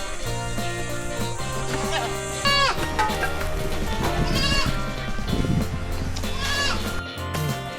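A goat bleats repeatedly in wavering, nasal cries that rise and fall over a busy outdoor background of rustling and clatter during birthday preparations, with people talking nearby.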